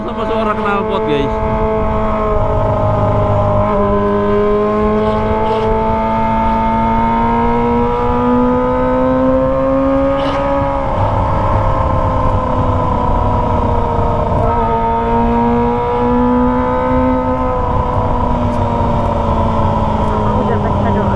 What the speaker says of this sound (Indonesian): ada suaranya tapi nggak begitu kenceng ya, karena kalah sama suara knalpot guys